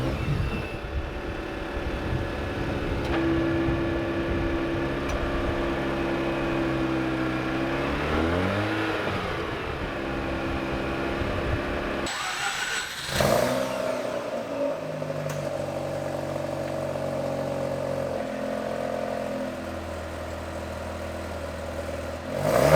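A 2003-2011 Mazda RX-8 rotary engine idling after a cold start, fitted with a new midpipe. A steady, close, humming idle runs throughout, its pitch shifting slightly, with a brief swell partway through before settling into a lower, smoother idle.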